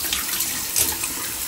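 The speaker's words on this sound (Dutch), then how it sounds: "dan ga ik meestal douchen" Water running in a steady, hissing stream from a shower during a morning routine, close and continuous with no voices.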